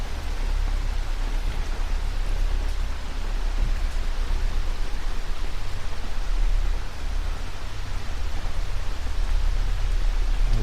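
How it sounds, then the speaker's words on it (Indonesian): Steady heavy rain falls on a campsite at night, a continuous close hiss and patter with no breaks and no voices. "Hujan masuknya."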